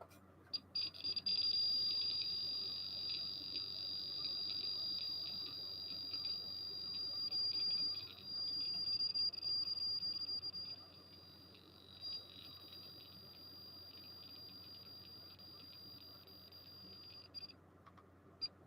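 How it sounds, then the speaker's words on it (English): Steady electronic beeping from a radiation counter set to counts per minute, a continuous high tone with rapid clicks over a faint low hum, fairly quiet and close. "We'll put this on the counts per minute where it beeps and listen to this."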